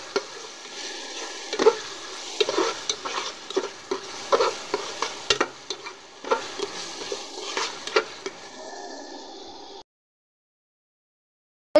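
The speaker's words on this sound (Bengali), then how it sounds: "আবার ভালো করে একটু কষিয়ে নেব।" Ground ginger, garlic and cumin paste fries in oil for chicken khichuri and is stirred with a spatula in a pan. Repeated rhythmic scrapes and knocks over a steady sizzle run for about ten seconds and then stop abruptly, with no talking.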